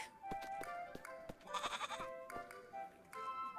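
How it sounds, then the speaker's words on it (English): Several short, quiet bleats from a goat in the video game Little Goody Two Shoes come in a quick, uneven series, some overlapping, over faint background sound. "You and that goat of yours, Rosemarine."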